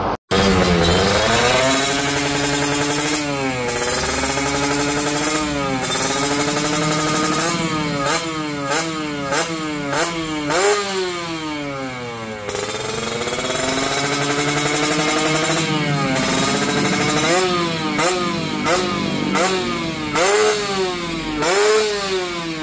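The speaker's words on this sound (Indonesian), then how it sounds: "kita cek dulu suara knalpotnya dan suara mesinnya" An older restored and modified Kawasaki Ninja RR two-stroke motorcycle runs close by, its engine and exhaust revved repeatedly in sharp rising and falling bursts over a buzzing idle for about twenty seconds, with no talk.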